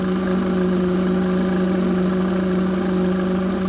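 A car engine with a faulty PCV system runs steadily at idle, giving a loud continuous hum with a fixed low drone and a faint rattling texture, no voices.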